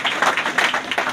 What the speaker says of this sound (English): Very proud of all you guys. Round of applause.